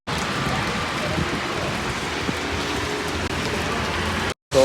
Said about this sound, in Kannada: ಫುಲ್ ಮಳೆ ಬರ್ತಾಯಿದೆ ನೋಡಿ.